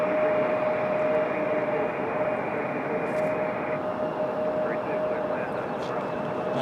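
An airliner arriving on runway 23 at Raleigh-Durham International Airport gives a loud, steady jet roar with a sustained whine, holding continuously throughout.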